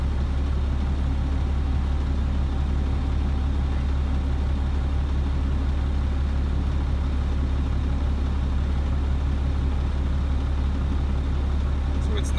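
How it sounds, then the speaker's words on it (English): An idling truck's air compressor runs steadily while building brake air pressure, a constant low rumbling drone that holds even and unchanging throughout, close and moderately loud. "if the needle is rising, it means the compressor started. So it's working."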